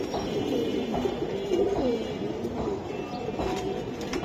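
Giribaz pigeons coo in soft, repeated throaty bursts close by, layered over a steady background rumble, with a voice faintly present at times.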